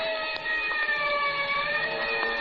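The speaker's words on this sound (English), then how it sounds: "somewhere in the distance I heard a siren" Wailing siren in a radio drama, a steady high tone with overtones that holds without pause, fairly loud and close-sounding, alone.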